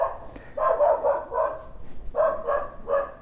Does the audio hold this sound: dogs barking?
yes